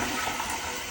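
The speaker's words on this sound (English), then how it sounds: "we're going to turn our supply line valve on. Let our tank fill up" A toilet tank refills from its supply line after the valve is opened on a newly replaced toilet. Water hisses and gushes in a steady, fairly quiet rush that lasts a brief moment, with no voices.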